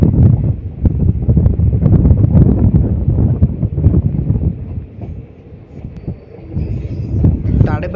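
The Simhadri Express runs on its journey from Tadepalligudem toward Bhimadolu, a loud, steady rumble and rattle of carriages with wind buffeting the microphone, dipping briefly before surging again.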